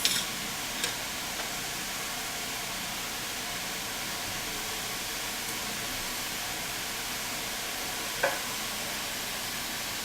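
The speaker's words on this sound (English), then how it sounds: "I'm sure you can hear that sizzle." Ground beef for donair sizzling as it fries in a pan, a steady soft hiss with a few faint ticks, heard alone without talk.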